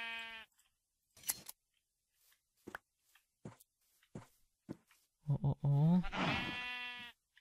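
Sheep in the Minecraft video game bleat in a drawn-out, wavering cry near the end, after a run of short, sparse clicks and footsteps.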